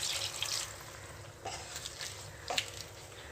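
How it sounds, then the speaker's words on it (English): Water poured into a rice cooker pot for a claypot-style chicken, mushroom and vegetable rice, a quiet splashing trickle with a few louder drips and splashes partway through. "Let's go ahead and add some water now."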